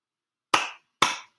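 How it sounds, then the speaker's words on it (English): Two sharp hand claps about half a second apart, crisp and close, marking out the two syllables of a word in a quiet room. "I always like to clap it out."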